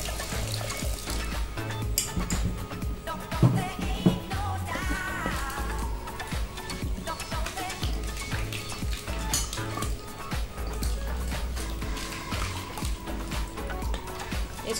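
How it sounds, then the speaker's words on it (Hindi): Water is poured a little at a time into a cooking pot holding amchur (dried mango) powder for a sweet-and-sour chutney, a steady trickling pour with light clinks of the pot beneath a continuous background. "अब इसमें हम थोड़ा थोड़ा पानी ऐड करते जाएंगे।"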